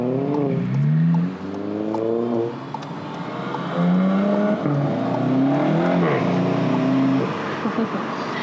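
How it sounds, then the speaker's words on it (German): A VW Golf GTI Clubsport engine revs and pulls through the gears, with rising and falling harmonic tones of the exhaust, moderately loud and continuous, with brief talk mixed in. "Der GTI kann auch laut sein,"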